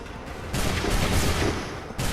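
Musket volley gunfire in Assassin's Creed 3, a British versus American Revolution battle: a dense, sustained crackle of many shots rolling together over roughly two seconds, loud and close with no talk.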